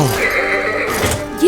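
A horse neighs loudly in a dubbed children's animated series, a sustained whinny with a brief louder burst at the end, heard alone without talk.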